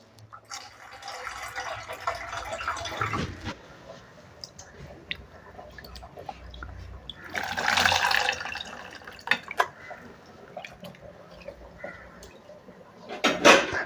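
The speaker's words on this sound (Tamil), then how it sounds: "இப்போ தேவையான தண்ணியை ஊற்றிக்கலாம்" Water splashes and pours into a pot of green tamarind rasam amid clinks of utensils and cookware, with a louder gush midway and a clatter at the end.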